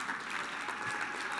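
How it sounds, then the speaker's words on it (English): A crowd at a Medicare sales keynote applauds four team members called to the stage, a continuous, moderately quiet field of clapping with no pauses. "I want to give them a round of applause."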